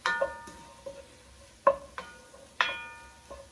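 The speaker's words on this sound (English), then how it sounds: "Quickly stir them so that they get nicely mixed with the butter and flour, the roux that we made" Beef cubes stirred into a butter and flour roux in a pot, with a few distinct metallic clinks of the spoon against the pan over a soft background.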